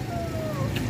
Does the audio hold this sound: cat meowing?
yes